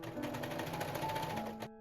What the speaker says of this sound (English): Serge the pocket back.